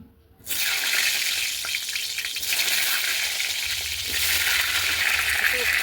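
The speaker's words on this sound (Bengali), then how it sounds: "আর এই বেগুন ভাজছি" Eggplant frying in a pan at home, a loud continuous sizzle beginning after a brief quiet moment and holding steady throughout.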